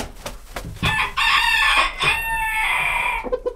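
Live roosters crow loudly and close, one long cock-a-doodle-doo rising and holding for about two seconds, with clucking chickens around it and no talk.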